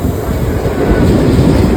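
An electric train rumbles past loudly and close, a steady roar of wheels on rails with a faint rhythmic clatter underneath.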